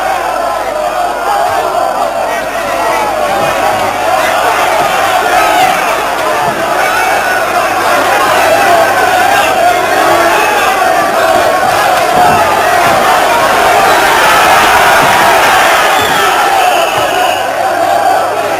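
A boxing arena crowd roars and cheers continuously for Ray Mancini during his fight with Hector Camacho, a dense, loud wall of voices that swells and holds with no pauses.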